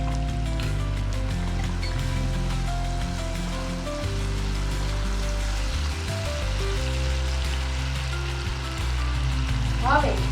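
Sago khichdi frying in a pan gives a steady, continuous sizzle alongside low kitchen hum, with a brief clatter near the end.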